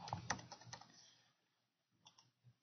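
Key presses on a computer keyboard typing in a gateway key, a quick run of close, light clicks followed by a pause and a few more taps.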